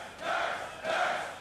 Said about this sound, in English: Sounds like Curse do have the local crowd supporting them